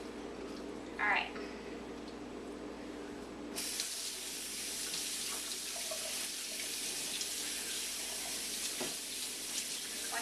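Tap water running into a sink while a whole chicken is rinsed, a soft trickle that jumps to a full, steady hissing stream partway through, close by and fairly quiet.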